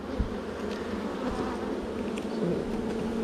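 Honeybees hum in a dense, steady drone around an opened hive during swarm-cell removal and queen replacement, close and continuous with slight wavering in pitch and a few sharper passes near the microphone.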